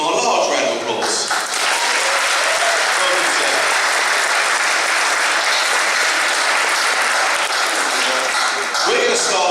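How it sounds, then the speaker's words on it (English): A large audience at a Christmas concert applauds the Mayor of Havering with dense, steady clapping that stays loud and continuous throughout, with no pauses. "I think that's at least a small, if not a large round of applause"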